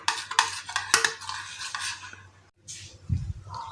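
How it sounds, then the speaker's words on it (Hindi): A spoon stirs fruit into thick cream in a bowl, giving wet clicks and scraping knocks against the dish in an uneven rhythm, close and moderately loud, followed by a pause and a few softer clatters. "अब हम इसमें फ्रूट्स डालेंगे।"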